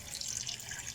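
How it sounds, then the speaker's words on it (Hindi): Water poured into a pot of black chickpea curry with salt and ground spices, a soft, steady trickling splash heard close and faint, with no voices. "अब हम इसमें पानी ऐड कर देंगे।"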